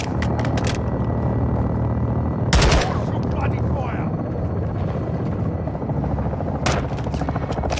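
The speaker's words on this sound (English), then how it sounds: "Hear that vehicle with the heli sound." Helicopter in the Modern Warfare 2 campaign, a continuous close rotor thrum and whine running throughout, broken by a few brief bursts of gunfire, with voices talking over it.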